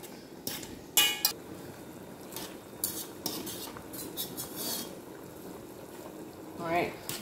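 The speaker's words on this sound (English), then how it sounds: "So now we're stirring in the cornmeal." A fork stirring cornmeal into boiled lentils, clinking and scraping against a pot or dish in irregular strokes, with a louder scrape near the end and speech faintly heard in the background.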